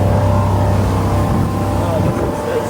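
A cheap yacht's engine running during an ocean sea trial, a loud, steady low drone with a constant hum, close and continuous for the whole stretch, with no voices over it.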